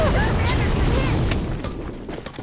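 A grenade blast in the online shooter AVA booms heavily and fills the start, then its rumble slowly fades while faint game clatter continues; a voice speaks over it.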